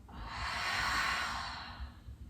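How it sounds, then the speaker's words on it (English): A single long, deep exhale during a yoga session: a soft, close breathy hiss that swells and then fades over about two seconds, heard alone. "take one last deep breath in. Exhale out."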